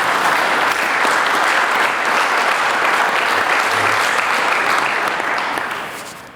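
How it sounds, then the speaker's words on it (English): An audience at the Iowa Wrestling Hall of Fame ceremony gives a sustained round of applause for posthumous inductees, loud and dense, tapering off at the end. "if we could just give them a round of applause for being inducted posthumously, Leslie Beers and Art Holding."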